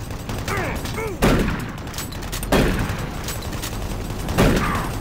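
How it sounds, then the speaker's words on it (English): Chain guns blaze at each other in co-op Doom 3, several heavy bursts of rapid fire crashing out over a bed of monster growls and mechanical game noise, with brief talk in the mix. "You're both just chain gunning each other?"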